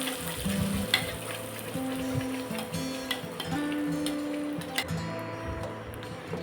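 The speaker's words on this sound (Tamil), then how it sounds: "இது நல்லா எண்ணெய் திரண்டு வர அளவுக்கு வதங்கட்டும். இது தெறிக்கும்." Fennel, cumin and a ground paste fry in hot oil in a pan for pepper egg curry, giving a steady close sizzle peppered with spattering pops and ticks, under a faint background hum.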